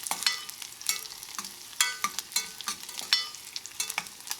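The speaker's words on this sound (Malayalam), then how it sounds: "ഞാൻ ഇതിലേക്ക് കുറച്ച് കറിവേപ്പിലയും ചേർക്കുന്നുണ്ട്" Shallots and dried curry leaves frying in a pan, a continuous crackling sizzle with frequent quick stirring clatters, close up and without any voices.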